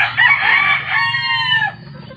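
A rooster crows loudly and close by in one long drawn-out call, with chickens faintly clucking beneath it.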